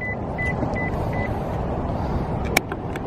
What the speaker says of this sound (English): let's go ahead and unlock the car